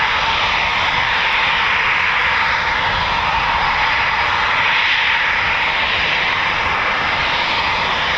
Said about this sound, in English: a couple of Typhoons that are spooling already